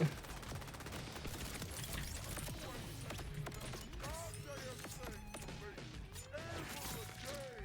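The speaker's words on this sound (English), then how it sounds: "it's another one of these dumb dad blasted turrets that keeps shooting me in the butt" Turret gunfire in the video game Borderlands 4, rapid bursts of shots crackling continuously and fairly faint under other game sounds, with a voice speaking over it.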